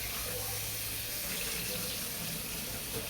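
Shredded cabbage is rinsed under running water, a steady rushing flow from the tap that continues without pause throughout.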